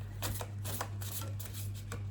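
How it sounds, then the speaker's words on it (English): Oracle cards shuffled by hand at close range, a run of quick papery riffles and slides in irregular bursts over a low steady hum, with no talking. "so I can shuffle while I'm holding her."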